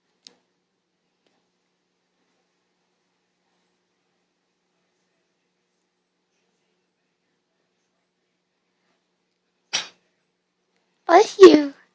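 A sneeze bursts out near the end, preceded by a brief sharp intake and following a long stretch of near silence; it is loud, close and stands alone.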